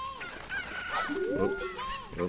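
Game-world poultry calls from The Legend of Zelda: Ocarina of Time, a short run of honking, squawky fowl cries with chirpy rising tones over faint background music, close and moderately loud.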